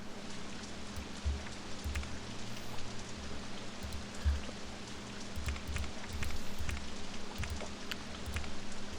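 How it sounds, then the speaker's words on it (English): Rain in the OpenRCT2 theme-park game, a soft, steady patter of drops with a faint low rumble underneath, kept quiet and even throughout with no one speaking. "And here comes the rain again."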